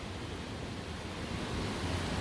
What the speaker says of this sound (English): It's snowing and I'm also seeing the waterfall.